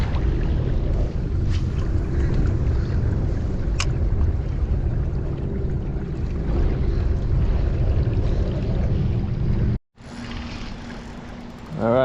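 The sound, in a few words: wind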